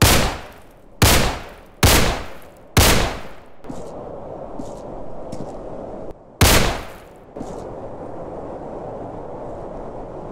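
Five loud, sharp gunshots ring out in the Roblox game Criminality, four in quick succession and one more after a pause, each with a short decaying tail over faint background hum.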